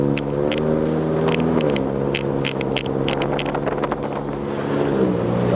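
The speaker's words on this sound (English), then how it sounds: "First cold start." Subaru FRS/BRZ boxer engine with DC Sports headers idling just after a cold start, a steady low harmonic drone with a slight pitch drop, heard close up with wind buffeting the microphone.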